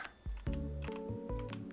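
Computer keyboard keys pressed in a few quick clustered taps and clacks, close and fairly quiet, with a game's tonal music in the background.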